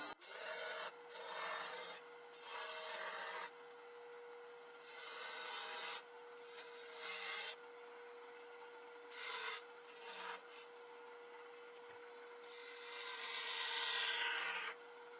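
Bowl gouge scrapes and rubs against an end grain wooden bowl turning on a lathe, giving repeated raspy bursts over a faint constant hum, close and fairly quiet.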